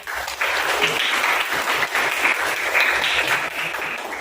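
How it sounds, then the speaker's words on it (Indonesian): A classroom of students claps together, a brisk burst of applause that starts suddenly and holds steady for a few seconds before tapering slightly. "aplaus dulu sama kita"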